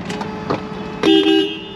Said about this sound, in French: On a un joli klaxon aussi qui fonctionne.